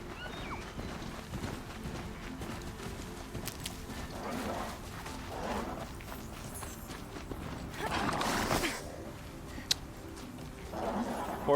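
Horse hooves in the video game Horizon Zero Dawn clop in faint intermittent bursts over a quiet, low background hum, with brief louder scuffing patches and a sharp tick near the end.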